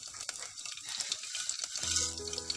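Green chillies, cumin and mustard seeds fry in hot ghee, a steady, close hiss of sizzling that grows slightly louder toward the end.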